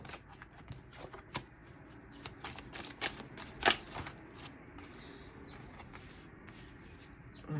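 A deck of tarot cards is shuffled by hand, producing crisp riffling bursts and soft slaps in an irregular rhythm, close and fairly quiet.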